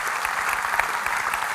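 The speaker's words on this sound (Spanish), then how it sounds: "si puedo dar un aplauso fuerte, déselo al Señor" Strong applause from a church congregation at a Christian sermon, steady dense clapping throughout, loud and close with no voices over it.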